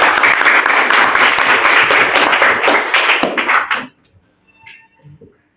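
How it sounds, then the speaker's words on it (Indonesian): A classroom of students applauds their three groups in a loud, continuous round of clapping that stops abruptly near four seconds, followed by a few faint knocks and brief murmurs. "Bagus, hebat semua ini, semua kelompok ketiga-tiganya. Tepuk tangan."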